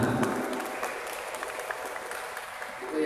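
An audience at an Islamic Center congress claps together in a steady round of applause that swells at the start and end, with a voice faintly present underneath.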